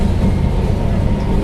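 An air-conditioned tram in Kolkata rumbles along, heard from inside the car as a loud, steady low-pitched roll and hum with no breaks.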